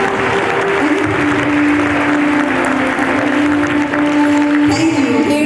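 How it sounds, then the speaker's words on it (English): An audience at an International Yoga Day celebration in Chicagoland claps loudly and steadily throughout, a dense sustained applause from the crowd with no voice over it. "So let's all give him a big round of applause."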